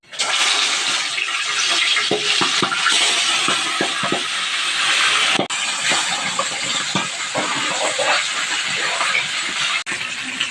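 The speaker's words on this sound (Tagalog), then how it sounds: "Ngayon po ay ipiprito muna natin yung bangus." Milkfish (bangus) frying in hot oil, a loud, dense, continuous sizzling hiss with scattered pops and spatters, close up and unbroken apart from a brief dip midway.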